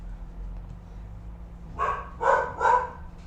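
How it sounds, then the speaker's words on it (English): A dog lets out three quick, close barks in a row after a quiet hum, each short and sharp. "Stupid dog."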